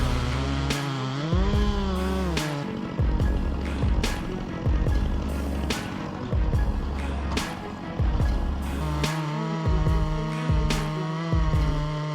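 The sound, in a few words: big chainsaw machine cutting tree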